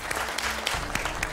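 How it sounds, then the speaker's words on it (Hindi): An audience claps to welcome a contestant onto a television show stage, a short burst of dense, even applause with no voices over it. "प्लीज ताली से इनका वेलकम करी"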